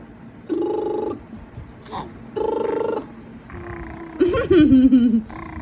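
A child makes buzzing, rumbling engine noises with the voice in short repeated bursts, imitating a vehicle up close.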